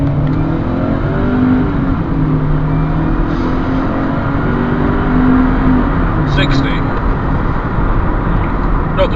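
A 2008 Mercedes CLK 200K with a 1.8 supercharged engine accelerating hard from rest on wet roads, its engine droning and rising steadily in pitch through the gears, heard from inside the car, loud and continuous.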